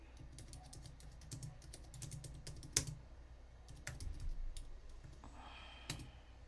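Fast typing on a computer keyboard comes as quick, light clicking bursts with short pauses and a few louder key strikes, close but quiet, with no talking.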